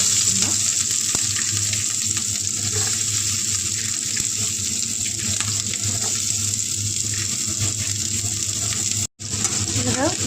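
Onions with cumin and green chillies dropped into hot oil in a pan, giving a continuous, fairly loud frying hiss that holds steady throughout, with a brief dropout near the end.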